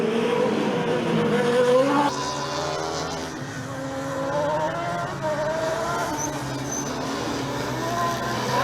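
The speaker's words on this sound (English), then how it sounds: "The engine on the Schweinfurt car also sounds quite well, Austin." An engine-powered Formula Student race car, the Schweinfurt entry, runs on the circuit during an endurance session, a loud, continuous engine note that rises and falls with the throttle and gear changes, with faint commentary underneath.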